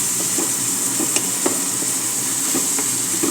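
Garlic and onion sautéing in a hot pan, a steady close sizzle with scattered stirring clicks and spatula scrapes, no talking.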